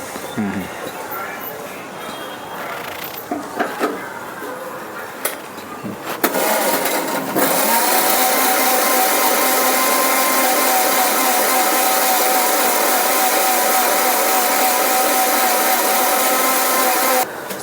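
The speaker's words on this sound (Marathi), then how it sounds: "बारीक करून घेऊ आता मिक्सर मिक्सरमध्ये करून घ्यायचं आपल्याला" A loud, steady motorized whir of a mixer grinder grinding pani puri ingredients fine starts after some brief knocks and handling, then runs continuously at high pitch until the end.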